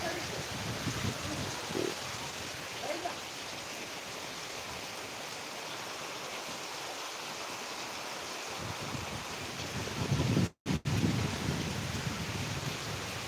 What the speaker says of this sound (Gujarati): ધોધમાર વરસાદ ચાલુ છે